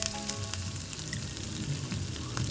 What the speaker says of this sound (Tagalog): Next, isaute na natin ang ating sibuyas.